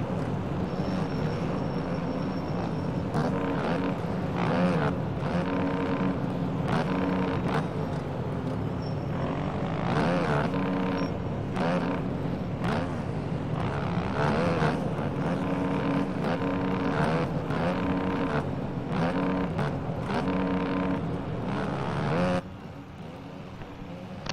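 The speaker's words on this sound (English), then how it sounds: "Let's go on board with Jack as he makes his victory lap around the track" Onboard motocross bike on a 450-class victory lap around the San Diego track, its engine droning steadily and loudly at close range for over twenty seconds with revving surges, dropping off near the end.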